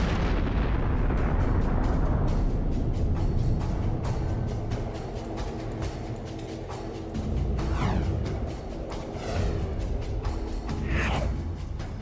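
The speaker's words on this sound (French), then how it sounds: "il se serait évaporé tellement vite que les résidus se seraient évaporés également dans une explosion" A tiny black hole evaporates in a colossal explosion, rendered as a huge, continuous roaring blast with deep rumble and crackling debris that rolls on loudly throughout, with whooshing sweeps near the end.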